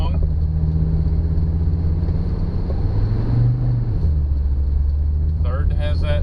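A 1982 Mercedes 300D diesel drones steadily as it accelerates through the gears, the pitch rising then dropping at a shift, loud and close with road and wind noise throughout.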